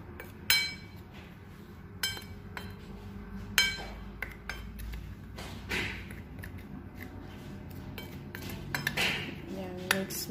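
Utensils scrape and clink against a bowl as chicken wings are mixed in their marinade, giving scattered metallic taps and knocks at a moderate level with quiet gaps in between.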